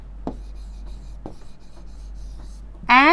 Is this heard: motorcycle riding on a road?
no